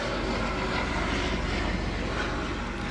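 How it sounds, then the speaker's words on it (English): A helicopter flying overhead in Miami makes a steady, loud engine roar and whine that holds throughout, close and alone with no talk. "This is a helicopter."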